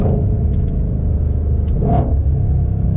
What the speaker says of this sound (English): And I'm going to downshift on purpose.